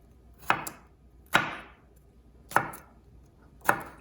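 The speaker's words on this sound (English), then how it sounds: "So our garlic is all sliced and ready to be used." A knife slices through garlic cloves on a cutting board in four sharp, evenly spaced chops, each a crisp close knock with a short fading tail, in a quiet room with no voices.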